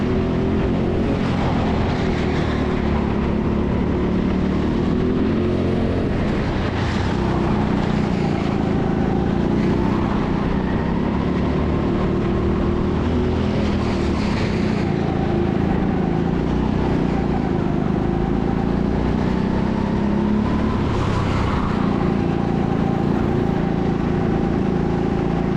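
Go-karts race around the TeamSport Sheffield track. A loud, steady engine drone runs throughout, with the pitch rising and falling as the karts accelerate and brake, and no voices are heard.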